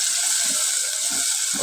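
Water is added to a cooking pot while preparing a turmeric-spiced chicken dish for lachha paratha, giving a steady close hiss of running liquid throughout with a few low soft splashes.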